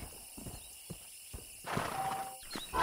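A stallion walks in the Red Dead Redemption video game, its hooves clip-clopping in an uneven, fairly close rhythm, with a neigh or whinny and some rustling in the second half.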